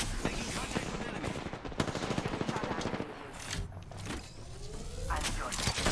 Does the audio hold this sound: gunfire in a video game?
yes